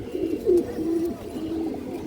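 A female pigeon coos close by, two or three soft low throaty calls over a faint background hum.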